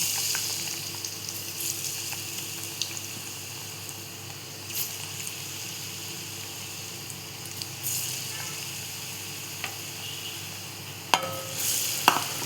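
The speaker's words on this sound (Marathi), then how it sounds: "हिला पण आपल्याला सेम अशीच फ्राय करून घ्यायची आहे." Kadki bhaji, an Alibag-style fritter, sizzles steadily as it fries in hot oil, a soft continuous crackle with occasional sharper pops and spatters.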